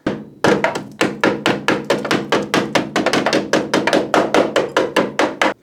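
A hammer taps the metal frame of a Citroën AZU with rapid, evenly spaced sharp knocks, about six per second, close and loud, with no talking.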